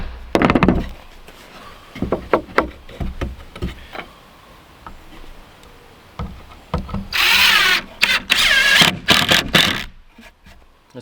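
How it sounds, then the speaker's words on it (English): A power drill driving a screw straight into wood while building an off-grid floor, with short bursts of whirring, a longer strained run near the end, and knocks and scrapes of handling between. "I'm going to risk it and just drill straight into the wood and hope it doesn't crack"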